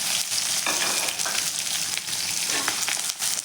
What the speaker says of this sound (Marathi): आता यामध्ये आपल्याला सुरुवातीला कांदा घालून घ्यायचा आहे।